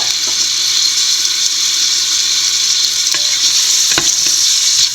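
Sliced onions and green chillies fry hard in a pan, a loud, continuous close sizzle with light stirring scrapes throughout.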